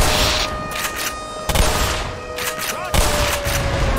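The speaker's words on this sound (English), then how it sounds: "So I don't get owned too much by the mortar fire" Repeated mortar blasts and gunfire in the Black Mesa video game, loud booming bursts at regular intervals with sharp crackling over a dense, continuous battle din.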